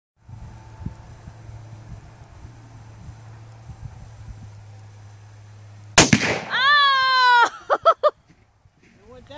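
Tannerite packed in a pumpkin detonating after a rifle shot outdoors, one sudden loud blast that cuts through a faint background hum, followed at once by excited shouting and whooping voices.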